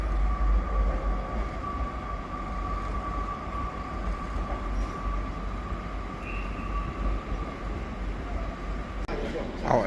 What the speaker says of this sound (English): Our next train of the day is 158782 with 2 Hotel 89, 2H89 from Carlisle to Leeds via the Settle Carlisle Railway.